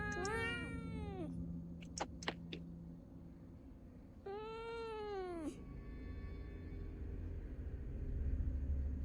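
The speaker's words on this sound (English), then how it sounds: "Cat." A cat meows several times in the horror video game Fears to Fathom, with a long, wavering cry near the start and another a few seconds later, close and clear over a low ambient hum.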